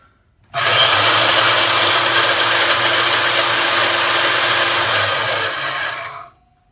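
A bandsaw in a small knife-making shop runs loud and steady for about six seconds, its motor hum overlaid with a harsh, continuous rattle like loose broken marbles, then spins down and stops.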